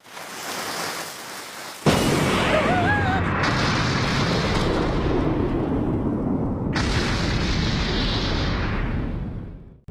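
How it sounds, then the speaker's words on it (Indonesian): A sudden loud cannon blast in the One Piece anime, followed by a sustained rumbling explosion and crackling debris, dense and roaring for several seconds before fading. "Rupanya dengan sekali tembak, puluhan rumah bisa dihancurkan oleh meriam Buggy."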